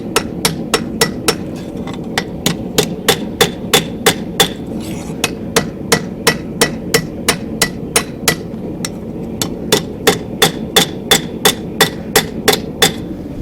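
Steady hammer blows on hot metal while forging a steel feather, about two sharp ringing strikes per second repeated evenly for the whole stretch, loud and close with no talk.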